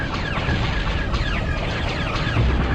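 An orbital cannon is destroyed in a PlayStation video game, giving a loud, sustained explosive rumble overlaid with sweeping synthetic whistles and bursts that continue for a few seconds.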